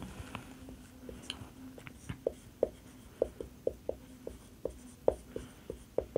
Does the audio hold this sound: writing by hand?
yes